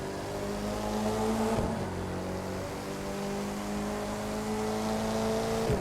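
A Mercedes-AMG car engine in the racing game The Crew 2 drones steadily and loudly, with a brief gear shift partway through before the revs climb again, and no voices over it.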